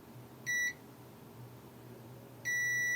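A multimeter gives two short, clear continuity-test beeps about two seconds apart during a PS4 repair, over a quiet low hum.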